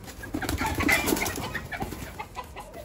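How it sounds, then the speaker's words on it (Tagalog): A hen, a fighting-cock breed, clucks in soft, scattered bursts close by, with faint rustling around it. "Ito yung inahin."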